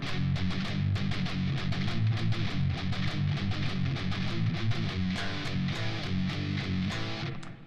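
Electric guitar plays a riff at a faster tempo, all downstrokes, with a steady, loud run of picked notes repeating in a triple rhythm and no voice over it.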